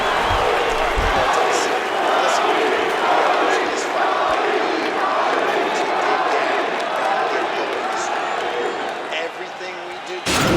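A virtual arena crowd in the fighting game UFC 4 cheers after a round of a bout between Tony Ferguson and Fabricio Werdum, a dense, sustained roar with scattered shouts that dips briefly near the end.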